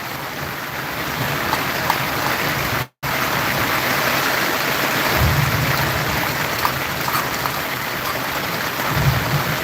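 Steady rain pours heavily onto a boat during a storm, a dense unbroken wash with low rumbling swells of thunder near the middle and end, and a brief dropout around three seconds.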